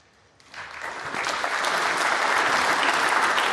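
Crowd applause at the Centaur in Cheltenham during a British Open snooker match, starting quiet and swelling after a moment into a full, sustained round of clapping.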